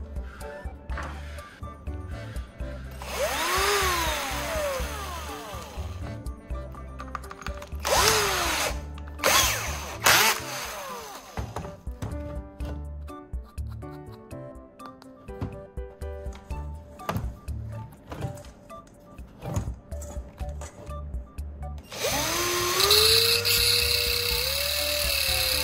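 A bolt is ground down with a high-pitched power tool to fit a terminal block hole. The whine runs in long continuous passes with brief stops and pitch changes as the tool loads up and spins free, and no one speaks.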